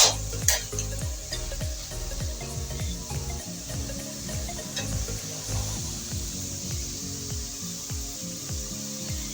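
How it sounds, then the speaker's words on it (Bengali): Grated carrot halwa is stirred in a pan, making a rhythmic series of scraping, rubbing strokes over a soft sizzle, close by and fairly quiet, without speech. "এবার ঢাকনাটা খুলে একটু নেড়ে চেড়ে নেব।"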